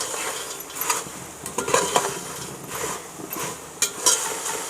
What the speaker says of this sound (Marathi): हे आता एकसारखं असं हलवून घ्यायचं